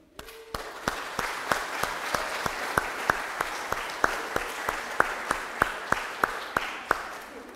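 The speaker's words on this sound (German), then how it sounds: "Herzlich willkommen, mein Applaus den Kindern." Church congregation at a Pentecost family service with baptisms applauding the children, a sparse, steady clapping with sharp individual claps standing out at a regular beat over a softer wash of hands, fairly close.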